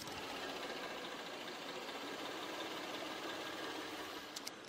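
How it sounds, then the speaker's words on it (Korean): A Hyundai Grandeur HG 300's engine idles with the hood closed, a steady, even hum at low volume, smooth and muffled, with no voices present; a few faint ticks near the end. "모델다운 정숙한 엔진 소음을 기대하셔도 좋습니다"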